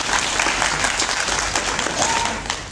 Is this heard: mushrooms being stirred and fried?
no